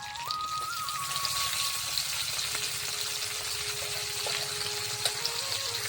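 Cumin seeds and coriander leaves sizzle steadily as they sauté in hot oil in a pan while cooking a traditional village-style mung dal dish, producing a continuous loud hiss with faint tonal hum and no speech.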